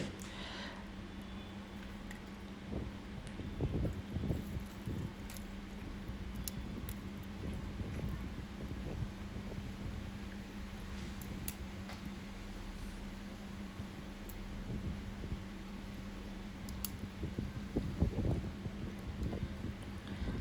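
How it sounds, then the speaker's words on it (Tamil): Strong wind blows across an outdoor wood-fire cooking site in the woods, a soft steady rush broken by low gusty rumbles buffeting the microphone. "காற்று கொஞ்சம் அதிகமாக இருக்குது"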